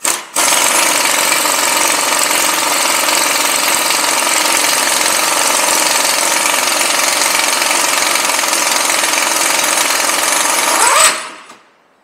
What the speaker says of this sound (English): And then we'll gun the axle nut off.